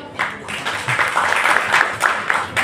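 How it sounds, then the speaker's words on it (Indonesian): Audience applause at a talk show event, a brief round of many people clapping with uneven, scattered bursts throughout. "Sekali lagi teman-teman kasih tepuk tangannya dong"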